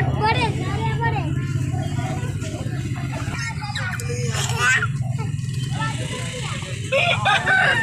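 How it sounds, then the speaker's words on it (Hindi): Roosters crow amid the steady hubbub of a crowded Sunday bird market in Sialkot, with chickens for sale, traffic rumble and overlapping voices throughout; the crowing rises in several bursts above the dense background. "तो ये सील मुर्गे हैं"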